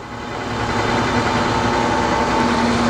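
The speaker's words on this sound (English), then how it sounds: "Just going to shut this grinding wheel off for a minute." A Brown & Sharpe 10 x 24 inch universal cylindrical grinder runs with its grinding wheel spinning, giving a steady, loud, continuous mechanical hum with a faint tonal whine that holds unchanged throughout.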